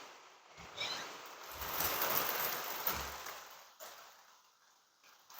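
Heavy rainstorm pounding outside with hail striking the roof, a dense steady hiss of rain that swells and fades over several seconds, heard from indoors with no talking.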